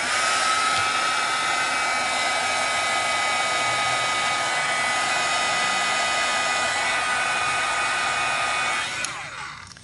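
A hair dryer blows on wet shimmer paint in a loud, steady, continuous whir that cuts off near the end.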